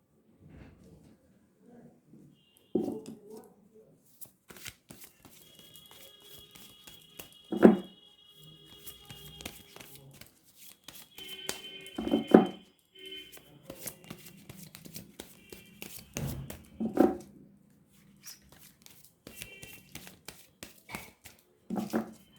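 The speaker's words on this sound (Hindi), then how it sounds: "बहुत सारे कार्ड्स गिर गए।" Playing cards being shuffled and then spilling in a heap, with soft riffling and several sharper bursts of cards falling and slapping down at intervals, close by with a faint voice in the background.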